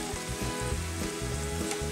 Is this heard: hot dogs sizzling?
yes